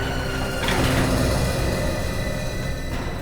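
An elevator door slides open with a low mechanical rumble and a brief rattling surge near the start, then a steady hum that continues for a few seconds.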